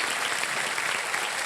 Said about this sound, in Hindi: और एक बार फिर तालियों के साथ इनका हम स्वागत करते हैं